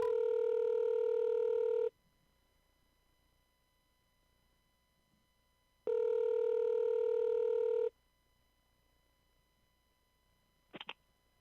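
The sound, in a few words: telephone dialing tones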